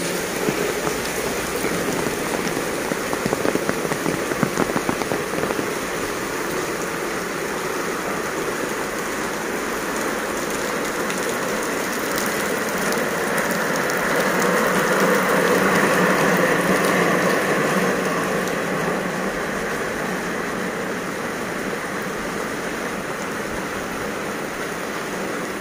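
Heavy rain from Hurricane Nora pours down in Acapulco, a loud, steady, dense hiss of downpour that swells slightly midway and never lets up.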